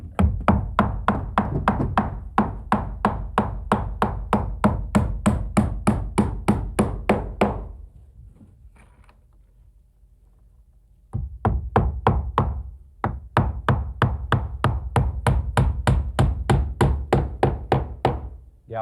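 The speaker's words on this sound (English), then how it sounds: "Lend me your hammer and I'll tack it in place." Rapid, steady hammer blows tack galvanized nails into a window frame in long runs of sharp taps, pausing for a few seconds midway before the quick hammering resumes.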